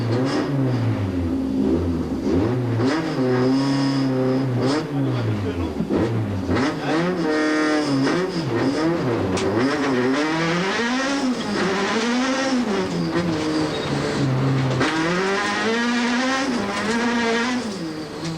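Castrol Toyota Run-X rally car heard from inside the cockpit on a rally stage, engine revving hard and rising and falling constantly through gear changes, loud and continuous with brief tyre noise.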